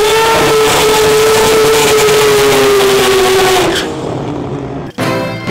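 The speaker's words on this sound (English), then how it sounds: "That's when you do a burnout and you smoke the tyres." A drag racing car does a tyre-smoking burnout, its engine held at a loud steady high pitch for several seconds before dropping off, followed by a brief pause and a rougher idle close by.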